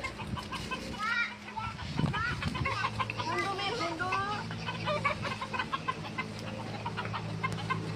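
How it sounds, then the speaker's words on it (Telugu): Chickens clucking close by in a series of short, rising calls and chatter, with a steady background hum and brief human voices mixed in. "ఏ కోళ్ళు ఉన్నాయి కోళ్ళు"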